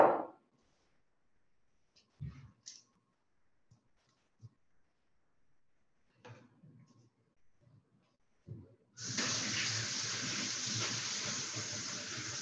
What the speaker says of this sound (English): I'm going to go ahead and give mine a little rinse because I am feeling a bit more of a grit on there.